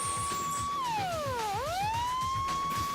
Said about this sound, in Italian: Nel reparto dei vigili del fuoco della centrale suona l'allarme.